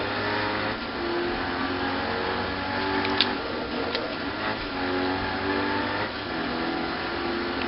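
A race car engine revs and shifts continuously through gears while lapping the Nürburgring in a video game, loud and steady with rising and falling pitch sweeps and no voices.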